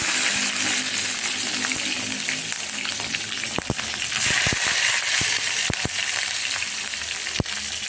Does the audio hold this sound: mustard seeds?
yes